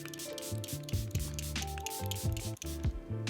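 Makeup setting spray is misted onto a face in several quick, close spritzes, short airy bursts repeating at an uneven rhythm over soft background music.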